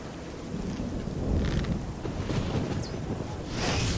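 Steady heavy rain pours in a nighttime storm in the video game The Elder Scrolls IV: Oblivion, with rolling thunder swelling midway and a brighter crack of thunder near the end; no one speaks.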